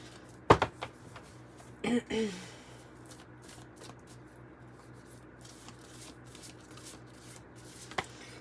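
Tarot and oracle cards are shuffled and handled up close, with a sharp riffle and a couple of brief papery flicks and snaps, then quiet handling with a faint knock near the end.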